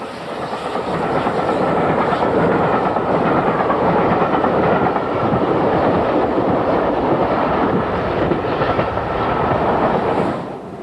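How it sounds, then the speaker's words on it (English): A Bournemouth-bound steam express train rushes past in 1967, swelling into a loud, steady roar with clattering wheels before fading away at the end. "The Bournemouth-bound express passes on the 15th of April 1967."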